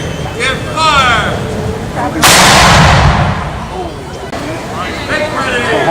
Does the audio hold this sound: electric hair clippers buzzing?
no